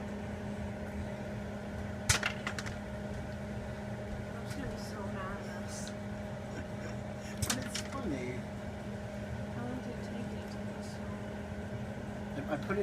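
A microwave hums steadily while an opened bag of popcorn crackles and pops sporadically inside, a few sharper pops standing out, with occasional voices nearby.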